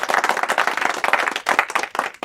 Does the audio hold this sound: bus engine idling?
no